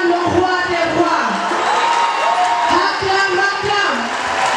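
Outdoor crowd at a scout and guide prayer vigil in Senegal, voices raised in cheering and acclamation alongside a leader's amplified speech, ongoing and fairly loud.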